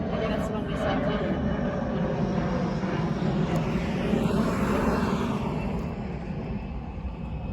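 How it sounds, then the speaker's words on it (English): A private jet roars overhead near Philadelphia International Airport, a loud broadband engine rush that stays steady and then slowly fades. "That's a private jet."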